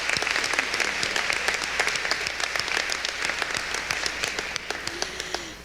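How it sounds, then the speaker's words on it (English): An audience at a family literacy program celebration breaks into steady, sustained applause for the superintendent, many hands clapping densely and evenly throughout without a pause. "One more applause for Superintendent."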